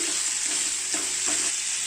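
Plantain fry seasoned with salt is stirred in a hot pan, a loud steady sizzle broken by a few scraping stir strokes, close up.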